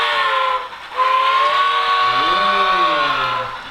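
A loud, shrill steam whistle from an HOn3 model cab forward locomotive's sound decoder blows steadily over a hissing background, its pitch bending and wavering near the end.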